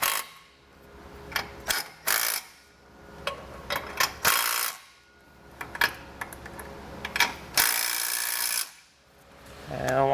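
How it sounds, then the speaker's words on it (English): A ratchet with a 9/16 socket snugs bolts while air helper springs are fitted to a 2021 Chevrolet, producing close, quiet bursts of clicking in short runs separated by pauses and brief rustling. "And we'll grab a 9/16 socket, snug these up"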